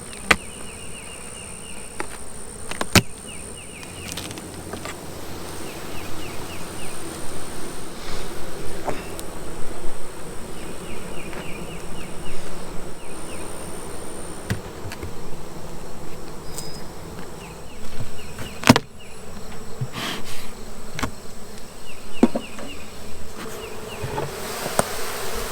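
Honey bees buzz steadily around a healthy hive outdoors, a dense continuous drone with individual bees passing close, plus a few brief knocks and clicks along the way.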